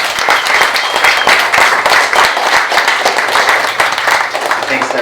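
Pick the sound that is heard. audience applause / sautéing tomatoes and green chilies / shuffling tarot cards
audience applause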